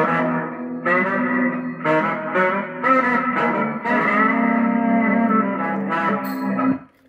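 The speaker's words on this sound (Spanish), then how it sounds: "Ahora vamos a escuchar las músicas de fondo con las que cuenta este Texas Ranger Elite" Background music tone number 1 from a Texas Ranger Elite CB radio, a series of synthetic, buzzy melodic notes with echo-like sustain and short gaps between phrases, played close and alone.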